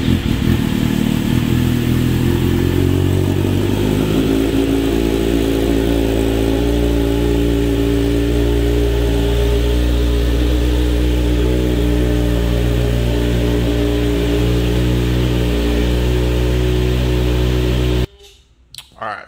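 A Kawasaki Z900RS motorcycle idles steadily close by, its exhaust giving a deep, continuous rumble for most of the clip before it cuts off near the end.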